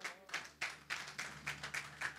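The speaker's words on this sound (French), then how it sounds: "Juste pour applaudir Monsieur Taheri." Audience applause at an awards ceremony for a recycling trade show, heard as a series of short rhythmic clapping bursts at moderate distance, fairly faint, with no talk over it.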